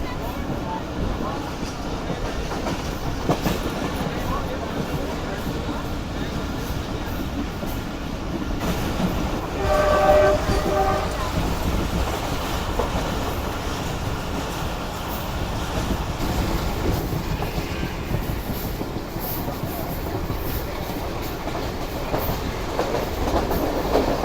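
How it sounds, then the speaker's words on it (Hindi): A Jaffer Express passenger train with a Chinese locomotive runs at speed through Sarai Alamgir station, a steady loud rumble and clatter of wheels on rails heard from on board, with a brief squeal or tone midway. "तो ये सराय आलमगीर रेलवे स्टेशन को स्किप कर रही है इस वक्त ट्रेन हमारी"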